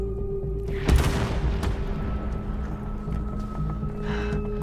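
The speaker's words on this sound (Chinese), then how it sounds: "枪声来自城外" In a war film, gunfire booms from outside the city: one heavy distant report is followed by a rolling, fading rumble and a faint later crackle over a low steady hum.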